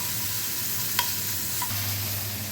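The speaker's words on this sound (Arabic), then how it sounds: "تتشوح كده البصلة" Grated onion frying in ghee in a pan, a steady close sizzle with a couple of sharp spoon clinks against the pan, no talking.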